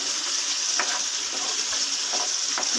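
Fish in a masala of ground red chilli, turmeric and salt frying in a pan, giving a steady close hiss of sizzling oil with a few soft stirring scrapes and no voices.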